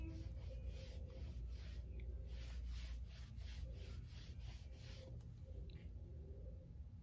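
A rag rubs wax onto painted wood in steady back-and-forth strokes, a soft, close, continuous scuffing with a faint grainy texture and no talking.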